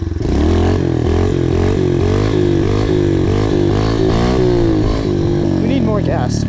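A pit bike engine revs loud and close during wheelie practice, holding a buzzing, wavering throttle note that rises and dips, with a clattering scrape near the end.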